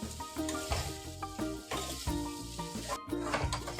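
Mixed vegetables with brinjal, cucumber and blended tomato frying and being stirred in a pan, a steady close sizzle with repeated scraping strokes and clatter throughout, no talking.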